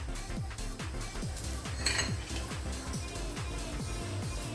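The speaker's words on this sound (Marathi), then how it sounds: "तव्यावरती भाजून घेऊया" Coriander seeds roast on a griddle over a low flame, with a spatula scraping and clinking against the metal in a quick, regular rhythm under a light dry rustle.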